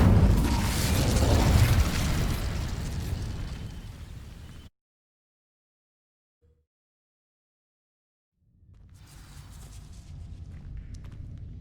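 An Incendio fire spell sets dry vines alight in Hogwarts Legacy, giving a loud roaring, crackling burst that fades over several seconds, then near silence before a lower rumbling swell returns.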